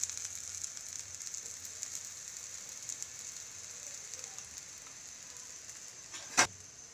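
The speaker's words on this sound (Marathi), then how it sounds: "आता ह्या वड्या तेलावर शॅलो फ्राय करून घेऊया" Potato vadi shallow frying in oil on a griddle, a steady soft sizzle and crackle that holds even throughout, with one sharp louder spatter near the end.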